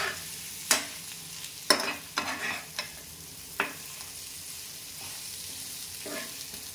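Samosa stuffing of mashed potato with salt, lemon juice and coriander being stirred in a pan, a handful of sharp spoon knocks and scrapes over a faint low sizzle, quiet and close, no talking.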